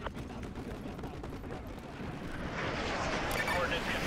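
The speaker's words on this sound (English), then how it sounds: "Fire mission received. Artillery inbound." Artillery strike in Call of Duty Modern Warfare 2 Remastered campaign, a dense, continuous rumble of explosions and gunfire that swells louder toward the end.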